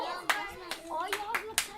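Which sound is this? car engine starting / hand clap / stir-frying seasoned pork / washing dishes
hand clap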